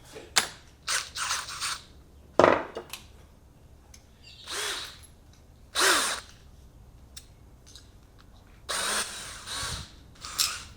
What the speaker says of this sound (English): we're going to drill this hole out, 3/16 inch drill bit